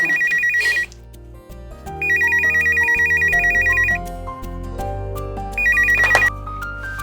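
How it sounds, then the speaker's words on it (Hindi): A telephone rings in a Pakistani drama scene, its electronic trill coming in three loud, close bursts over steady background music. "अच्छा मैं फोन देख कर आती हूँ।"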